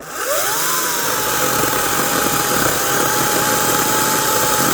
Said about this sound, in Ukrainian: Першою ріже пилка 200, коротше стара, 200.